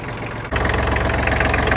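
A Kioti DK35 tractor engine starts and settles into a steady, loud, close idle with an even low throb and no talk.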